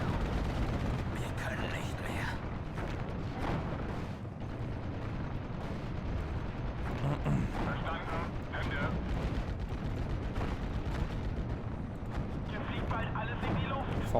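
Rockets strike targets in the WWII strategy game Steel Division: Normandy, producing a continuous rumbling roar of distant explosions and blasts, layered and fairly quiet, with occasional sharper pops.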